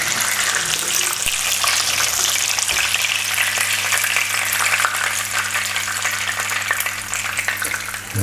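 Pieces of cod fry in a pan with a loud, continuous, close sizzle and crackle that holds steady throughout.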